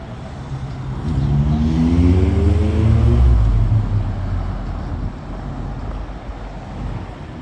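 Cars pull in at a roadside stop near gardens, one engine rising in pitch as it approaches and then fading, with steady low traffic rumble continuing, moderately loud and no voices.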